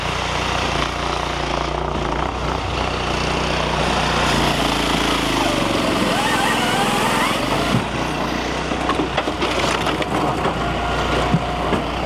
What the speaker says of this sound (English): runs the saw down, comes down here, pulls the trigger for the splitter